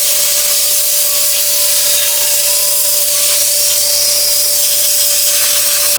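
Compressed air from a workshop airline blasts dust off the engine of a Smart ForTwo 451, a loud, continuous hissing roar with a steady whine that holds for several seconds and then cuts off abruptly.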